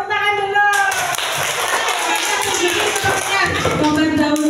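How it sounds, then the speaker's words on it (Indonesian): A fourth-grade primary school class bursts into a dense, steady wash of hand clapping that runs on for several seconds, with children's voices calling out over it. "Tepuk tangan dulu."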